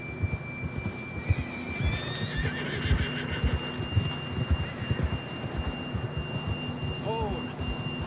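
A horse in the Red Dead Redemption 2 video game whinnies once with a rising, wavering call, set among nearby hoofbeats, low rumbling and a steady tonal hum.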